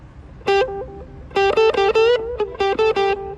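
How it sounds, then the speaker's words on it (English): Sound system in a 2024 RV playing a melodic note sequence through a fast echo effect with a touch of overdrive, bright repeating tones in short bursts with quick repeats, loud and close with no talking. "Make it faster echo."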